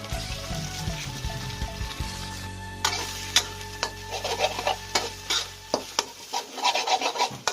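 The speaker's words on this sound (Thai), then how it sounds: "ใส่ไข่ไปสองฟองนะครับ ผัดให้เข้ากันนะครับ" Two eggs with minced fish are stir-fried in a pan for a Thai dried-chilli basil stir-fry with bamboo shoots, heard as steady scraping and stirring with sharp spatula clicks against the pan and a sizzle beneath, close and fairly loud.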